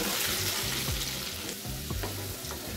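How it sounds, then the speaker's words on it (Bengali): Taro (arbi) pieces frying in a covered pan for a vegetarian dum dish, a dense continuous close sizzle with a few soft scraping knocks as the pieces are turned. "লালচে লালচে করে আমি ভেজে নেব"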